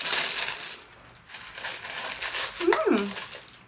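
Green wrapping paper crinkling as a Birchbox beauty subscription box is unwrapped, rustling close and uneven in short bursts, with a brief high whine near the end.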